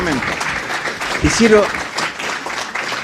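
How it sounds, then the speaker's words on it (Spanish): Steady applause from a crowd, continuous clapping throughout with a brief louder swell in the middle. "Los van a tener que aplaudir de nuevo"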